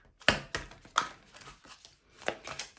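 Oracle cards being shuffled by hand: a handful of soft, irregular riffling and tapping clicks at close range, quiet, with short pauses between bursts and no speech.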